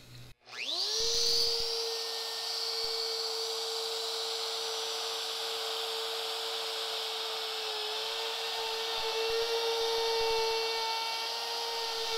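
A power router with a round bit cuts a recess for a tile inlay in a wooden tabletop, spinning up sharply and then holding a loud, steady high-pitched whine with grinding cutting noise throughout, close and alone.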